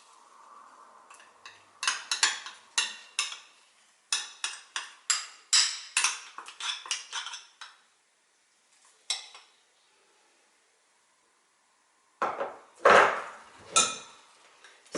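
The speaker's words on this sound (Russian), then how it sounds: "Всю эту массу опять хорошенько взбиваю." Whisking sour cream with condensed milk in a bowl, bursts of fast rhythmic clinking taps of whisk against the bowl, pausing briefly, then a near, louder final flurry.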